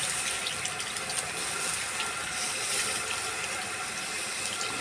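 Water pouring steadily into a cooking pan (kawali) while making pancit canton, a continuous close splashing gush with no talk over it.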